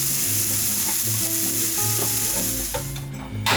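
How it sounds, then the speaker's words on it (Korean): Shiitake mushrooms stir-frying in a hot pan, a continuous close sizzle with scattered clicks and scrapes of stirring throughout, no voices. "표고가 노릇해질 때까지 볶아주세요."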